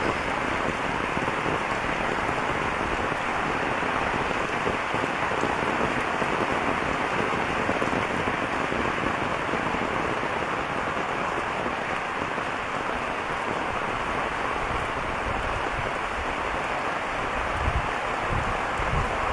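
A downpour drums without pause on waterlogged village fields where ducks play in rainwater, a thick, loud, even wash of splashing drops, no one speaking.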